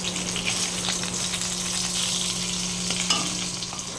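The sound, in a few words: fish head frying in a pan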